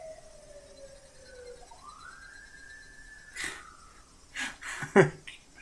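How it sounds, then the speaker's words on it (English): Police car sirens blare in a street, a wailing tone rising and holding from a distance, then breaking off into a few louder bumps and rustles close by. "I don't know if you could hear those sirens blaring."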